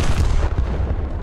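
Battleship main battery guns fire in the War Thunder naval game, a loud, dense booming burst that fills the whole clip with heavy rumbling low end.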